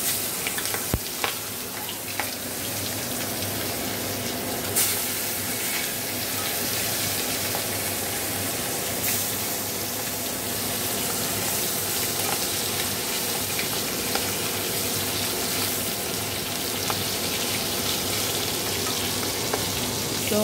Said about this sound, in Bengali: চিংড়ি মাছে নুন হলুদ মাখিয়ে নিয়েছি, তাই মাছগুলোই এখন ভেজে নেবো